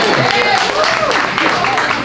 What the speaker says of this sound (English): Come on, clap it up for that.